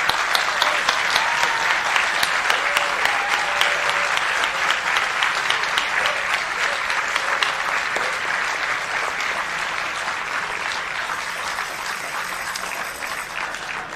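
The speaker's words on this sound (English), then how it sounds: "Could you give her a round of applause, please?" Sustained audience applause for Professor Stephanie Kelton at an Adelaide conference hall, dense steady clapping from a large crowd that slowly fades in level over its length.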